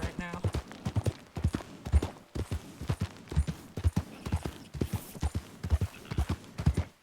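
Horse galloping in Red Dead Redemption 2, rapid rhythmic hoofbeats clopping steadily over dirt at close range, with spoken voices over them and a brief whinny near the start.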